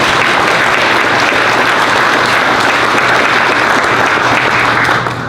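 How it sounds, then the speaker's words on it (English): Dense, loud applause from the audience at Danish embassy opening remarks fills the room, a continuous roar of many clapping hands that holds steady and then begins to taper in the final moment. "I actually would like us to give a round of applause for Bernhard as well."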